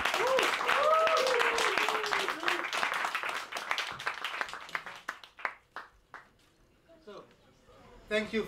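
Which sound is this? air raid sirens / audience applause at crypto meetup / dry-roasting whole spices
audience applause at crypto meetup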